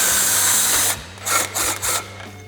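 A 3/8-inch impact gun with a 15 mm socket removes front bumper bolts on a 2021-2023 Ford Bronco: a steady hum, then three short, loud whirring bursts close by.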